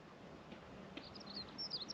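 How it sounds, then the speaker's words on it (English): Faint bird chirps and twitters rise late in the clip over a low outdoor background hum, thin and distant, on a hill ridge walk in the countryside. "you can hear birds twittering"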